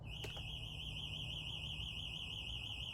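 A continuous warbling electronic alarm sounds inside an abandoned house, steady and fairly faint, with a couple of brief clicks early on and no talking.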